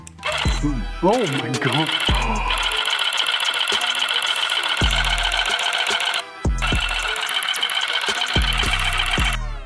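A rug tufting gun runs loud and fast with a dense mechanical buzzing that cuts out briefly and restarts several times; a voice exclaims over it near the start.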